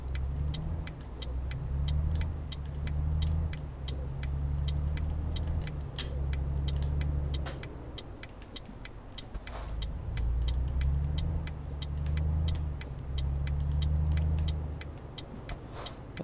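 A truck engine drones steadily in the Euro Truck Simulator 2 driving game, with a low rumble that swells and eases in waves as the truck accelerates, alongside a fast, regular ticking like an indicator, at a moderate level with no voices.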